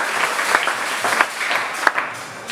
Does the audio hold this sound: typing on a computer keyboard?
no